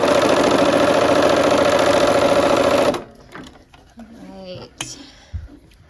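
A sewing machine runs steadily for about three seconds, stitching a quarter-inch quilt seam, then stops and leaves quiet handling noises behind.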